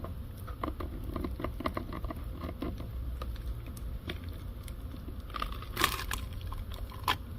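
Soft, irregular crackling and ticking as thin breakaway plates slowly peel loose from a mold, quiet and close, with a couple of slightly sharper snaps near the end.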